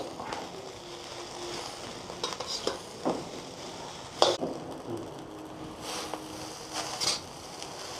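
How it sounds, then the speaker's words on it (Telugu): Egg noodles and vegetables being tossed with a spoon in a hot pan on high heat, a continuous sizzle under repeated scraping strokes and occasional sharper clinks of metal on the pan, close up with no talk. "మంచిగా ఇట్లా కలిపేసుకోవాలి. నూడిల్స్ మొత్తం కలిసిపోవాలి ఆ వెజిటేబుల్స్కి."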